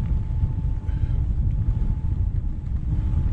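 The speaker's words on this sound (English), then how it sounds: "Wind's very strong," Strong wind buffeting on an outback Goldfields Highway in Western Australia, a steady low roaring rumble close to the microphone with no other sounds.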